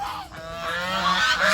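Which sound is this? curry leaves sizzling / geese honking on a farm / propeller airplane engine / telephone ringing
geese honking on a farm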